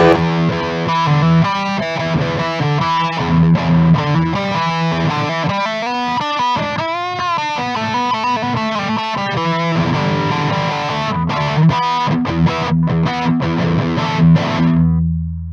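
Electric guitar played through an amp with no pedal, dry signal, chords and single-note lines ringing fairly loud and close, with no talking.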